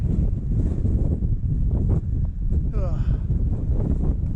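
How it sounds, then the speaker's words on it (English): Strong wind gusting across a hilltop edge at Bamford Edge during a storm, heavy low rumbling buffeting on the microphone throughout, with a brief higher whistle midway and a voice speaking faintly underneath. "Oh, it's very windy as well."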